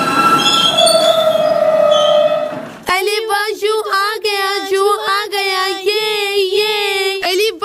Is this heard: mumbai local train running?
yes